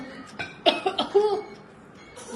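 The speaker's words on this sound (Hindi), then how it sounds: "खांसी हो रही है इसको वीडियो में दिखा रही है" A few short, close coughs in quick succession, followed by quiet.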